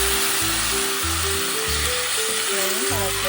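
Cleaned prawns sautéing in a pan for a Tamil prawn and drumstick curry give a steady, close, loud sizzle throughout, with faint tonal sounds and brief low thumps beneath.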